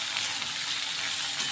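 Potatoes and onions fry in a pan, giving a steady, dense sizzle that holds evenly throughout with no talking.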